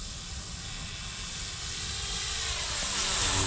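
A Carbon Cub S2 airplane flies in light winds, its steady propeller-engine drone holding at a moderate distance and swelling slightly louder partway through.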